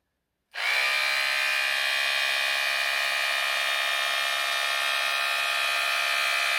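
A split-end hair trimmer hums steadily and loudly after a brief silence, with a constant high-pitched motor whine that holds unbroken to the end, and no voice over it.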